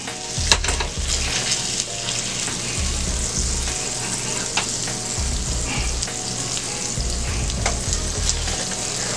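Salmon fillets fry in a skillet with a steady, loud sizzle and crackle, plus a few sharp pops and a low rumble throughout, with no talking.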